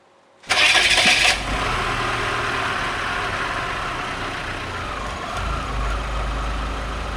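A Peugeot 206 CC engine, freshly serviced, cranks with a loud, brief starter burst, catches, and settles into a steady, even idle that holds close and unbroken for several seconds.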